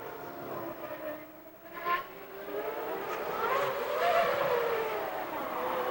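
An Arrows Formula One car on the Monaco street circuit during practice, its high-pitched engine whine rising and falling as it passes at a distance, with a steady background roar.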